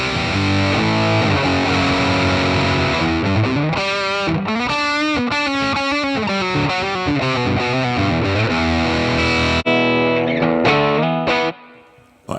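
Electric guitar with humbucker pickups played through a Joyo Preamp House pedal on its AC30 amp model, loud and continuous chords and melodic lines with gritty drive, ringing out alone before a quick fade at the end.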